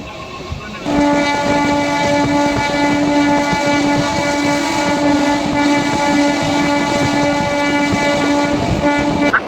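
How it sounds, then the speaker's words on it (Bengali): A MEMU train running toward Puri, a loud sustained horn blast with a steady harmonic tone over the rumble and rattle of rail cars, close and continuous after a brief quiet start. "তাই আমি মেমো ট্রেন ধরেই পৌঁছে যাচ্ছি পুরী।"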